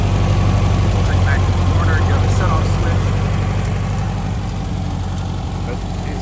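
A restored 1974 VW T2 flatbed pickup's 1600cc dual-port engine idles steadily, a loud, continuous low rumble that holds even throughout, with faint background noise over it.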